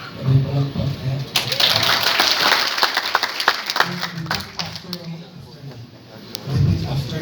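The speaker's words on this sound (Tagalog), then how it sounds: "May palakpak na yan." Applause during a wedding ceremony, a broad burst of clapping from the gathered guests that swells early and fades, with voices talking before and after it.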